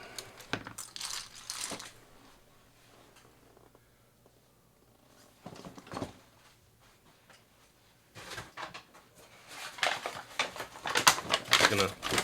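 Plastic keycaps are pried off a Razer Blackwidow Stealth mechanical keyboard in bursts of sharp clicks and rattles, with a denser flurry of clacking at the end.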